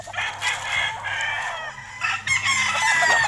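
A black bulik rooster crows nearby, loud and drawn out, followed by a second crow after a brief dip, with faint clucking from other fowl around it.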